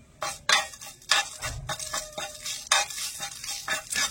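Cumin seeds and dried red chillies fry in a pan while being stirred, with bursts of sizzle and the scrape and clack of a spatula against metal coming in irregular strokes, close and fairly loud.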